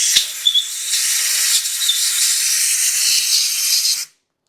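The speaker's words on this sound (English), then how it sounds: "I'm going to clean it with the carburetor cleaner, just to make sure that that lube's not going to hold on to the next process" Carburetor cleaner sprayed from an aerosol can onto an aluminum handle part from a Toro Super Recycler mower, a steady close hissing burst lasting about four seconds before cutting off abruptly.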